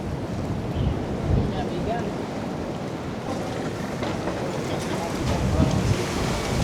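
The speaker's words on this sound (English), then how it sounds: "Could be a little bit less wind" Wind blowing hard across the Benidorm seafront on a cool, windy day, a steady broadband roar buffeting the microphone with gusts swelling near the end.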